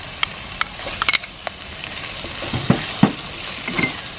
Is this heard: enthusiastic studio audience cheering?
no